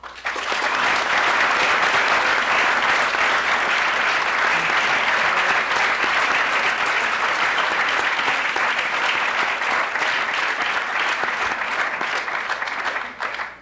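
Sustained audience applause at a televised political debate on which party should lead into the 21st century, loud and steady for about thirteen seconds before cutting off.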